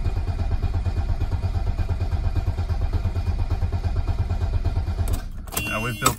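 Mercedes 300D diesel engine cranking over without glow plugs, a steady loud rhythmic starter churn that runs for about five seconds before cutting off, followed by a brief clatter.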